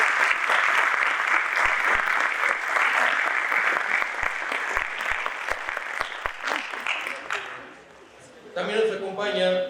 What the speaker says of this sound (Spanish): démosle un fuerte aplauso a...